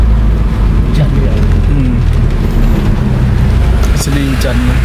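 Steady rain pours at a bus stop in Serian, Sarawak, a loud continuous wash with traffic rumble beneath and faint voices in the background.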